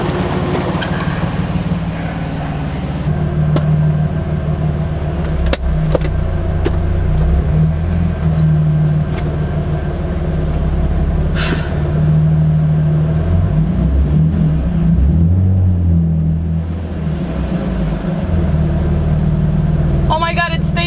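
A Nissan 350Z engine idling after its dirty throttle body was cleaned, a steady close-up hum with a low drone that wavers slightly midway, and voices talking over it.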